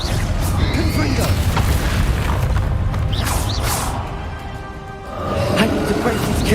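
Confringo spell explosion in the video game Hogwarts Legacy during a fight near a dragon: a loud booming blast with crashing, creaking debris and whooshes, a short dip, then renewed rumbling.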